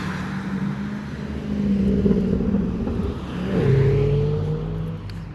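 A Ferrari drives up a street and accelerates, its engine note rising and falling in pitch as it nears, a steady road rumble swelling louder partway through, heard from the roadside without talk.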